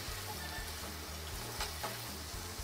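Desi chicken, pointed gourd and quartered potatoes are stirred in a frying pan, a soft continuous sizzle with a steady rhythm of scraping strokes close by.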